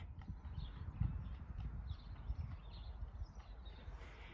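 A horse walks out of a yard at a relaxed pace on light rein contact, hooves giving a steady, continuous clip-clop close to the microphone, with faint birdsong above and no talking.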